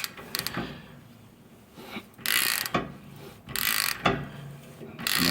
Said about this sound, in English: get your ratchet on there, just tightening it up